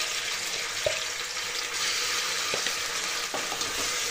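Ginger garlic paste frying with onions in a pan, a steady sizzling hiss with a few sharp clinks of a spoon against the pan.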